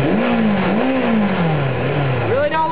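A 1995 Suzuki RF600R motorcycle with under 13k miles, warmed up and sitting in place, revs up and settles in a smooth rising and falling engine drone, loud and close, ending with a quick higher blip.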